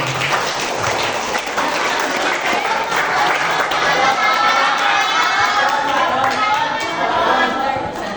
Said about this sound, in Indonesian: Sekali lagi tepuk tangan untuk Pak Guru dan